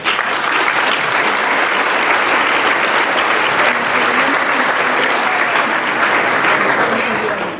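Loud, sustained applause from a room of guests at a class of 2016 graduation dinner, a dense continuous wash of clapping that holds steady and ends abruptly.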